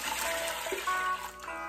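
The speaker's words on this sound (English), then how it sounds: "we're gonna pour 2 cups of simple syrup into" Simple syrup poured into a large pot, a soft continuous trickle of liquid with light splashing, close and fairly quiet.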